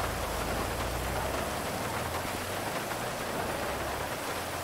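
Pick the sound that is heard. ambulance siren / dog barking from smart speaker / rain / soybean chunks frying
rain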